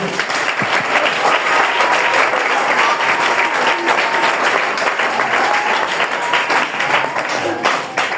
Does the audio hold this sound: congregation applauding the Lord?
yes